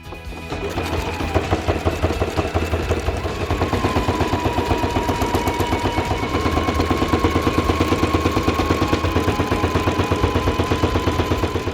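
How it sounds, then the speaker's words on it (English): A Husqvarna Viking Designer Ruby sewing machine topstitches leather accents onto the main leather pieces of a purse, running in a fast, steady mechanical chatter of stitches at close range without a break and with no talking. "I just completed top stitching my accents onto my main leather pieces. I did that on the Designer Ruby by Husqvarna Viking"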